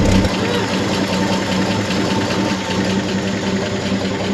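A Chevy C30 truck engine, off the road since 1978, runs steadily and loudly with a rough, even idle and a faint knocking beat throughout, with no talk over it.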